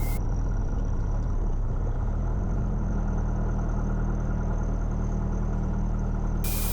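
Loud, steady low drone of a small aircraft engine idling nearby, constant throughout without variation.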